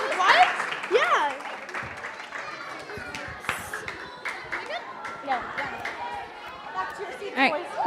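Audience applause for a third grade class at a school event, a loose crowd clapping mixed with chatter and children's voices, steady through the clip with people talking over it.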